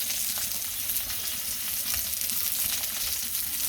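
Hilsa fish frying in hot oil in a home kitchen gives a steady, dense sizzle with a close crackle that holds evenly throughout, with no voices.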